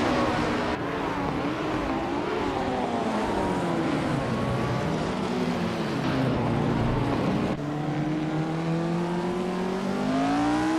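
A 1965 Brabham BT 710 race car engine in a racing video game, a steady loud droning whine with rising and falling pitch as it shifts gears, continuous and close, with no talk.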